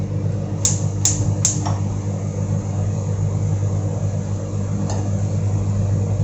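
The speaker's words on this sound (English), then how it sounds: "I'll be turning on the stove first" Three quick ignition clicks, then one more a few seconds later, as a kitchen stove is switched on to fry ingredients for mac and cheese, heard over a steady low hum.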